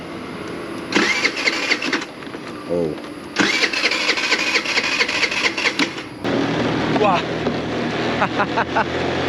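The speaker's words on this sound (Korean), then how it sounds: "오토바이 겁나 덜덜거린다." A rented motorbike engine is cranked and starts, then rattles and putters loudly at idle, with brief exclamations from a person over it, on Bozcaada island, Turkey.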